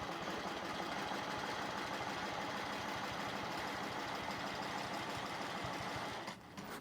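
A sewing machine runs steadily while stitching a seam, giving a continuous, even mechanical whir with a fast rhythmic chatter. It is close and fairly loud, with no talk, and it slows and stops near the end.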